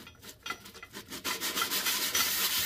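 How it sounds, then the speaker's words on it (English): A CB750 Turbo engine part is lapped flat by hand, a steady close rasping rub that starts in light separate strokes and then runs into a continuous scraping, with no talking. "See if we can lap this down a little bit."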